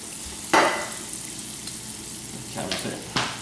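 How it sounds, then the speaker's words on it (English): Onions frying in a pan give a soft, steady sizzle, broken by a few distinct scraping stirs near the start and toward the end, with a faint tap-water hiss in the background. "Give your onions a stir."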